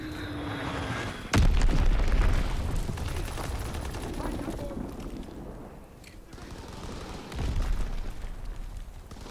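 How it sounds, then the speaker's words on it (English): An incoming enemy bomb blasts in Call of Duty WW2, a sudden loud boom followed by rumbling debris and scattered gunfire, with a second heavy thud later amid ongoing battle noise. "Enemy bomb incoming. Get to cover."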